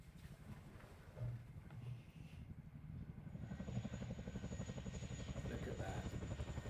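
A military helicopter flies around nearby trees, its rotor thudding in a steady rapid chop that grows louder and fuller over the seconds, with a faint high whine above it.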